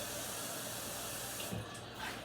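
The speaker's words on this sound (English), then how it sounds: "I'm putting water in here." Tap water runs into a cooking pot in a home kitchen, a soft continuous rushing that stays quiet and steady with a brief splashy change partway through.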